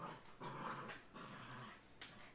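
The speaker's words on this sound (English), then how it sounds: "Can y'all hear the growling?" Puppies growl low and rumbling while tugging on a rope toy, with a small whimpering yip mixed in; faint and somewhat distant, with no voices.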